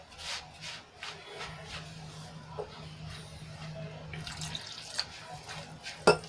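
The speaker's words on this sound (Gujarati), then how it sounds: "અને બીજું જોઈતા પ્રમાણમાં આપણે પાણી એડ કરીશું।" Water being poured into a wheat flour batter for a quick breakfast snack, heard as a soft, steady trickle under a low hum, with scattered mixing clicks and a sharper knock near the end.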